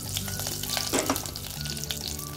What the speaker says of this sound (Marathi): थोडीशी जिरे मोहरी टाकू आता।